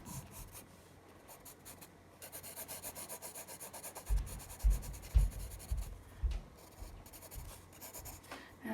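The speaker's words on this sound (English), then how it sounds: "So let's take our shading pencil. I'm also gonna bold it out a bit." A shading pencil rubs across paper during a drawing, producing a soft scratchy rasp that builds into louder, rhythmic back-and-forth strokes near the middle and then eases off. No one speaks.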